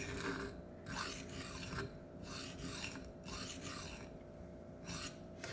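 A knife drawn in light passes across a Venev sharpening stone, a steady run of rhythmic rasping strokes, close and fairly soft, with no voices.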